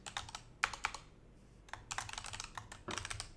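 Typing on a computer keyboard, quick irregular bursts of key clicks separated by short pauses, close and fairly quiet with no talking.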